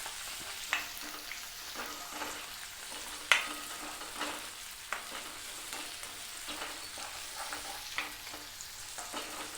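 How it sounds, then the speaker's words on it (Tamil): Onions for a red capsicum chutney sauté in a pan, giving a quiet, continuous sizzle under irregular spatula scrapes and taps, with one louder knock early on. "ஒரு 2 மினிட்ஸ் இந்த வெங்காயத்தை வதக்கிட்டு அதுக்கப்புறம் தக்காளி போட்டு வதக்கலாம்."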